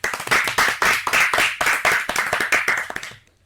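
An audience claps loudly and steadily in a quick, even rhythm for about three seconds, close and dense, then stops abruptly into near silence.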